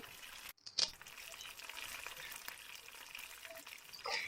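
Raw potato pieces frying in oil for a crispy snack, a steady close sizzle broken by scraping and clatter as the pieces are turned over repeatedly, with no talking.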